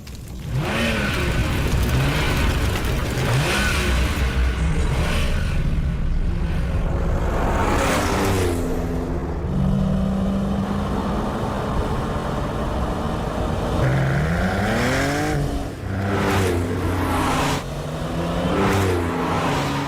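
A car driven fast in a race, its engine revving hard and climbing through repeated gear changes, loud and close, with whooshing passes and a steady roar for about twenty seconds.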